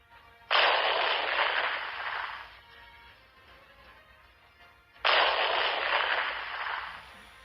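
Two big explosion blasts, each a sudden loud burst of rumbling noise that lingers for a couple of seconds before fading, separated by a quieter pause.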